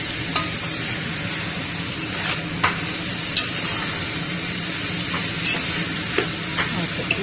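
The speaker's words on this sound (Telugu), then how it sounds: "క్యాప్సికమ్, టమాటో వేస్తే అల్లం వెల్లుల్లి పేస్ట్ కూడా వేసేసాం. వేసేసి ఇప్పుడు బాగా మిక్స్ చేసేసుకోవాలి." A spoon stirs vegetable curry of capsicum, tomato and ginger-garlic paste in a sizzling pan, a continuous soft frying hiss broken by scattered light scraping clicks.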